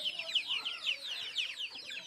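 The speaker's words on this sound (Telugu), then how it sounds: "కోళ్ళు చూడండి ఒకసారి ఒకటే సౌండ్" Many village chickens returning to their coop in the evening, clucking and chirping at once, a faint, busy chorus of high, overlapping calls that continues steadily.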